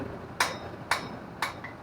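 Three sharp hammer blows on hot steel while forging a spoon, evenly spaced and ringing briefly, with a fainter fourth tap at the end and quiet room tone between the strikes.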